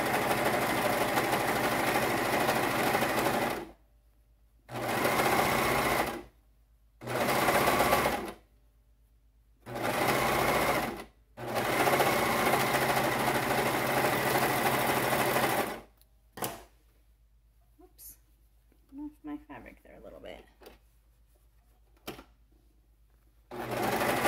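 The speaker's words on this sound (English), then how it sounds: "I'm going to use my serger and just serge those edges real quick" A serger runs in several bursts as it stitches the edges of fabric for pyjama bottoms, each a loud, even whir stopping abruptly between runs, followed by quieter handling noises and brief pauses.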